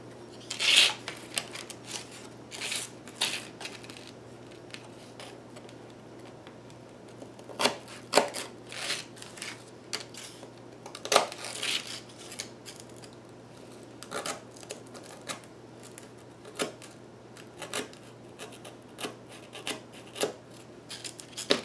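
A graham cracker is cut along a dotted line in a string of short, dry cutting and scraping snicks, close and fairly quiet, with no one talking.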